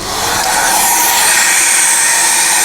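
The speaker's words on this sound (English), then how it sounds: "So I'll just open up these vacuum taps" The vacuum system on a John Deere MaxEmerge planter unit runs with a loud, steady, airy whoosh that builds in the first moments and then holds constant.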